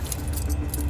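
Brief metallic jangling and clinking of metal tent stakes rattling together, close, over a low rumbling background.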